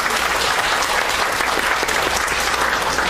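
Sustained applause from a ceremony audience as guests are introduced at a civic declaration event, steady dense clapping filling the whole stretch with no break.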